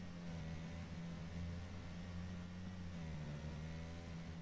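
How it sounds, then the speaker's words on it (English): Car engine in PUBG, a steady mid-pitched droning hum while driving, faint and continuous with no pauses or talk. "this probably isn't the quietest car either"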